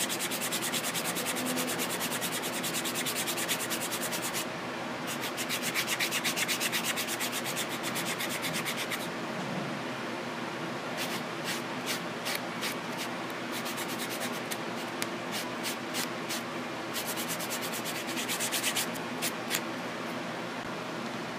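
A buffer block rubs over an acrylic nail in quick, dry, raspy strokes, heard close up. Bursts of fast scrubbing alternate with short pauses, and no one talks.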